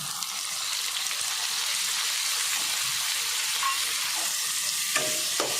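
Garlic and tomato fry in a hot pan for a chicken keema, giving a loud, dense, continuous sizzle with a few faint clinks near the end, close up and without voices.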